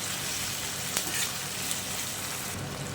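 Soya chilli sizzles steadily in a hot pan while being stirred, with a constant frying hiss and a few soft scrapes and clinks from the spoon.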